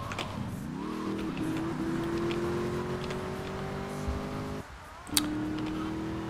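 A car in GTA III revs and slides through a drift, its engine tone rising steadily with a brief tire squeal, then a short pause before the engine picks up again, close and loud.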